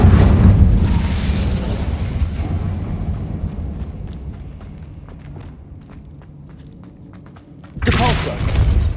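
Spell blasts from Bombarda and Incendio in the video game Hogwarts Legacy: a heavy rumbling boom at the start fades into scattered thuds and crackles, then a second bright burst erupts near the end.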